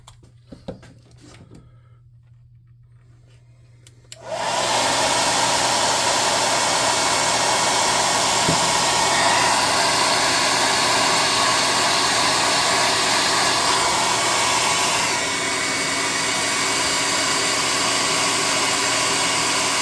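A hair dryer blows steadily on model alien terrain bushes for a tabletop game, switching on loudly after a few quiet seconds and running as a continuous close whoosh with a slight dip near the end.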